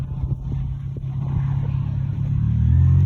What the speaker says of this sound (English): Could you stop the revs? It's not even revving, it's just loud. It's loud, very loud Civic.